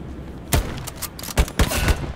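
Gunfire in the World War II shooter Hell Let Loose on the Sainte-Marie-du-Mont map: four sharp, close shots in quick succession over low battlefield ambience.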